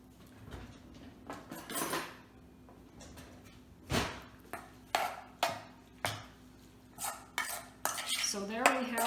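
A clean spoon clinks and scrapes against dishes while pineapple-mango salsa is served, giving a string of sharp, close metallic taps with short gaps and a brief ringing scrape near the end.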